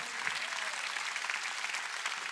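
Congregation clapping in a church service, a continuous even wash of many hands at moderate-low level, sounding somewhat distant and filling the space.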